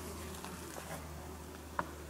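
Honey bees buzz steadily at a beehive, a dense continuous drone with a low hum and scattered individual insects flitting past, plus one brief sharp tap near the end; no voices are heard.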